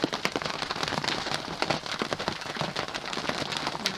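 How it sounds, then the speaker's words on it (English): Rain falling steadily on surfaces during a squall in the islands, a dense continuous patter with scattered sharper drop hits, fairly loud and close, with no voices. "Rain."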